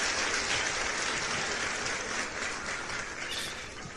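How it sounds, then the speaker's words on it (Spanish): Loud, sustained applause and clapping from a podcast studio audience welcoming a guest, dense and steady throughout before tapering slightly at the end, with no speech over it. "Déjame darle un aplauso al hombre ahí porque se lo merece"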